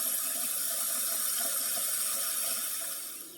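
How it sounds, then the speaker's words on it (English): Tap water runs steadily into a stock pot at a sink, a continuous close hiss and gush that holds level for about three seconds before tapering off. "Let's go ahead and fill up the stock pot."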